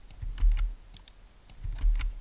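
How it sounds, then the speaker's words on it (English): Computer keyboard keys pressed for a Ctrl G grouping shortcut while working on a PC: a few soft, quick clicks in two small clusters, close and quiet, with no talk. "press Ctrl G on the keyboard to group them"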